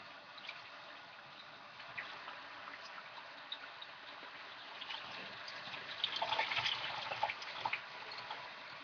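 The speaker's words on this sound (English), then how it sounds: "You can fill it up with water." Faint, steady running water splashes and trickles, like a tap filling a basin, with soft irregular splatters throughout.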